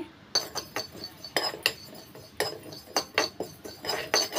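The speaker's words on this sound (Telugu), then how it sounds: "ఒట్టి బాండీలోనే ఆయిల్ ఏమి వేయకుండా వేయించేసుకోవాలి" Metal utensil scrapes and clinks against a dry, oil-free pan as spices are stirred and tossed, in irregular close-up bursts.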